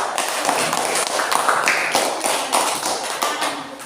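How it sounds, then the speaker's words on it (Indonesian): Classroom of children clapping their hands together, a dense, steady patter of many close claps filling the room for several seconds without talk. "Oke, tepuk tangan."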